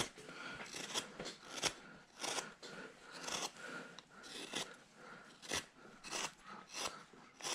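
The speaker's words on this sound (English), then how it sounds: "still work my gouge on around this way" A wood carving gouge cuts into a wooden figure, giving close, rhythmic scraping and crunching strokes, each a short rasping pass, repeated steadily with small pauses and no talk.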